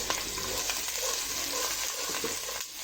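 Garlic and ginger sizzle steadily in a hot pan of oil, a close, continuous frying hiss with faint stirring.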